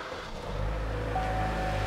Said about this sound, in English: Jump in the vehicle and give it a start